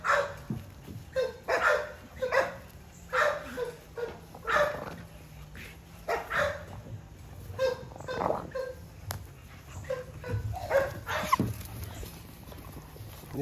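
American Bully merle puppies bark repeatedly in short, loud, irregular bursts up close, with a few whimpers and yips mixed in and a low hum underneath.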